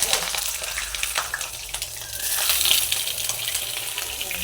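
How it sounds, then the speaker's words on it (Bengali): Eggplant slices frying in hot oil in a kadai after tangra fish, giving a steady close crackling sizzle throughout with faint clinks, no voices. "বেগুনটাও ভেজে নেব।"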